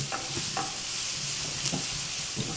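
Chopped red onions hiss in a hot pan with a constant bright sizzle, punctuated by a few soft scrapes as they are stirred.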